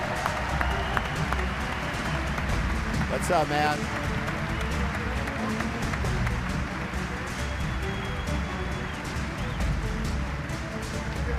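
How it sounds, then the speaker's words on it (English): A crowd at a university football signing event claps and cheers for a newly signed player, sustained applause throughout, loud and close, with a brief spoken greeting over it. "give a round of applause"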